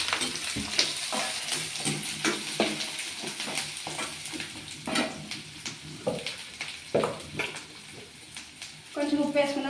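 Onion and green chillies frying in oil with cumin, mustard seeds and curry leaves for poha upma, a steady close sizzle with stirring scrapes and brief clatters, a voice talking throughout.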